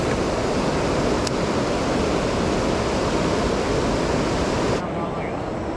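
A small river rapid rushes loudly and continuously, a dense close roar of churning water with a steady, broad wash that softens slightly near the end, with no voices.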